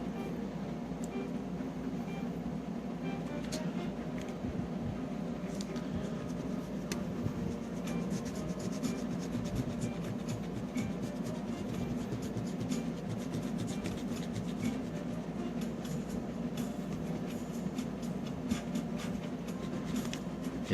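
Steady, close rubbing and rasping of an eraser scrubbing the contact pads of a 1988 Double Dragon II: The Revenge game cartridge, a continuous gritty friction running on with no pauses.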